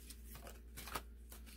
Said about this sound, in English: A little difficult to shuffle, though, because they're kind of small.